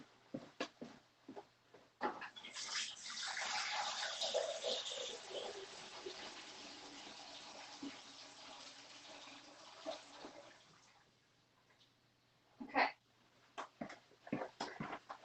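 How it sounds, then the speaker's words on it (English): Water running from a tap into a container, a steady rushing fill lasting several seconds before stopping, framed by knocks and handling clatter at a low overall level. "that was the fastest fill of water ever"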